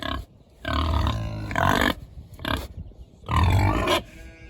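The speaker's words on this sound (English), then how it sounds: "Oh, you pigs." Pigs on a small farm give loud, close grunts and squeals in three or four short bursts separated by brief pauses.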